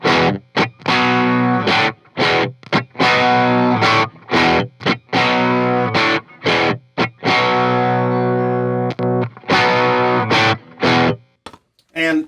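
Distorted electric guitar played through an Avatar 18 watt amp running both channels at once, loud and up close, with chugging chords broken by short rhythmic gaps and nobody talking.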